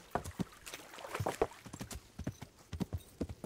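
Horse hooves clip-clop in the medieval video game Kingdom Come: Deliverance, an uneven series of close, sharp thuds as the horse walks, with no talk over them.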